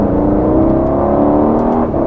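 Aston Martin Vantage F1 Edition engine, loud and close, revving steadily with a dense whirring drone through a 4-3 downshift in Sport mode, blip rising slightly near the end.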